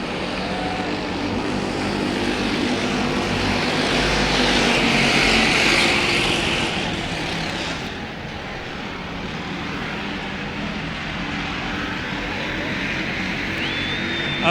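The number 41 race car is driven hard around Battleground Speedway, its engine roar swelling loud as it passes close, then easing into a steady drone with other cars on track.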